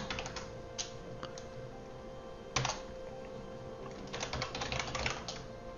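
Close, fairly faint clicking of keys on an external computer keyboard, with irregular bursts of quick taps and a couple of louder strokes and short pauses between them, and no one talking.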